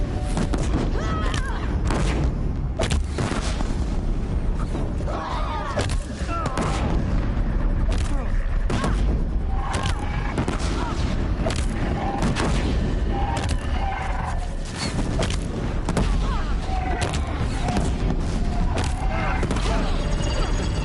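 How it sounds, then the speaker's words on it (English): Bombs fired and exploding in Horizon Zero Dawn on New Game Plus Ultra Hard, a constant loud stream of sharp blasts and thuds with busy mechanical game sounds throughout. "Switch and just start firing some bombs"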